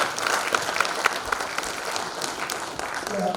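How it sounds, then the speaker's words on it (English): Audience clapping in appreciation at a closing session, a dense, steady wash of hand claps with individual sharper claps standing out, sustained at even loudness throughout. "Can you give him a special clap?"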